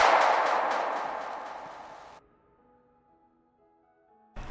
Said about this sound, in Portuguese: é o som do tiro